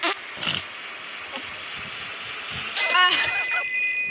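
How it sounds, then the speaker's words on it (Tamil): An electronic phone ring chimes in near the end of gameplay in the video game Payback, a repeating trill over a steady hum of game background noise. "இங்கே ஒரு ஃபோன் ஓடிக்குது."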